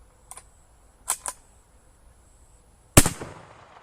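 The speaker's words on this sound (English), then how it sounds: "and here's shot number 2." A rifle firing a soft lead bullet at a target on an outdoor range: one sharp, loud shot that rings out with a brief echo, preceded by a few faint clicks of handling.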